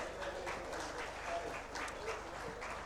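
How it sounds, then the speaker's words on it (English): At a convention's valedictory session, an audience claps to welcome dignitaries, a soft, distant, steady patter of many hands, with faint voices mixed in underneath. "May I request you all to welcome the dignitaries with a round of applause once again."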